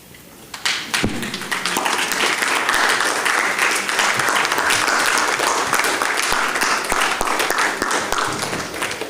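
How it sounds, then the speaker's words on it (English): Sustained applause from a standing audience at a public lecture marking a Social Security Week anniversary, loud and steady throughout after a sharp start, with scattered thuds and a little crowd noise beneath. "I'd like everybody to stand and give a final round of applause to the Honorable Mr."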